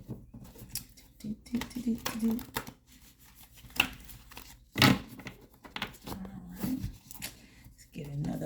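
Soft papery riffling and light tapping of tarot cards being shuffled, in short bursts, with quiet speech between them.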